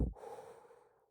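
A human voice imitates heavy breathing close up: one sharp snort-like intake followed by a drawn-out, breathy exhale that fades gradually, heard alone without other speech.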